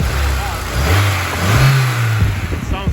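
A high-mileage 2005 Honda S2000 engine revs up and settles in a couple of rising and falling swells, loud and close, with a person talking over it.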